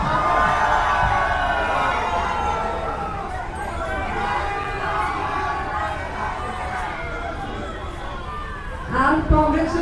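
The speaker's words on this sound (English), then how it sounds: "Make some loud noise, come on." A crowd at a cricket semi-final cheers and shouts after a win, a loud continuous roar of voices and whoops that swells near the end, while an announcer talks over it.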